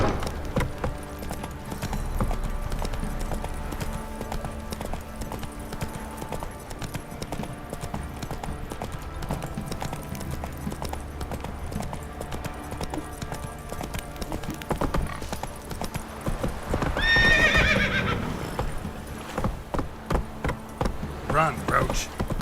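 Roach the horse in The Witcher 3 gallops with a steady, rapid clip-clop of hooves, a whinny briefly rising near the end, while voices talk over the game sound.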